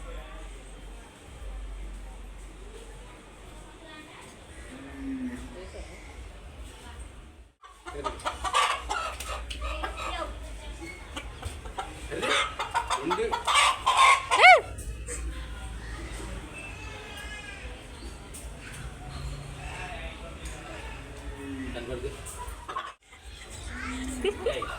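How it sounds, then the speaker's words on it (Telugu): Village chickens cluck and flap their wings as they fly about, with a busy burst of wing flutter and clucking in the middle, while several people talk throughout. "ఆ కోళ్ళు అవి ఎగురుతున్నాయి."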